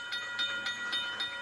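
A train rolls through a railway crossing in a video game, giving a faint, steady hiss with sustained tonal ringing and soft rhythmic swells about every quarter second, with no voices.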